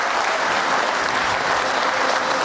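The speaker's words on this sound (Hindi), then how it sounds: "we can give a huge round of applause" An indoor audience at a corporate digital awareness program claps loudly and continuously, dense even applause filling the whole stretch with no talk.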